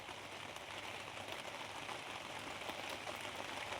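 Rain falls steadily, a faint, even hiss of drops on surfaces that stays constant throughout with no distinct events.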